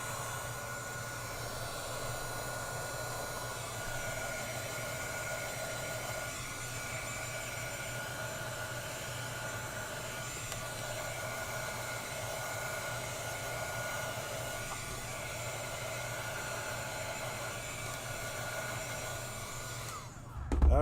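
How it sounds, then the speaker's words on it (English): A heat tool blows steadily and loudly to heat set stamped ink on a card, a constant near whooshing hum lasting about twenty seconds before it clicks off. "we're just going to heat set this real quick"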